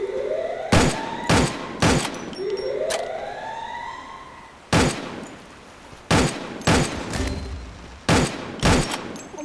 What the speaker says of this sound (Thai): โดนยิงจากระยะไกลใช่ไหมครับ ผมไม่เห็นตัวมันแต่มันยิงผมยังไงครับ